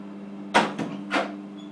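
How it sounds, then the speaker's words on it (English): Someone inside a shop's toilet tries to open the locked door, making three quick rattling thuds and scrapes close by, with a low steady hum underneath. "trying to open this door"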